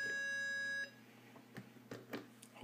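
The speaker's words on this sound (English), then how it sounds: "so you can hear the beep. There's the beep." An Arduino Leonardo buzzer gives a steady electronic beep for under a second, then cuts off, leaving faint room noise and a few soft clicks.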